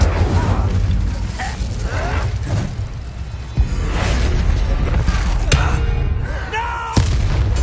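Fiery blasts and heavy booming impacts from the Incendio fire spell in Hogwarts Legacy, dense and continuous with sharp thuds around the middle and near the end, layered over game music and effects.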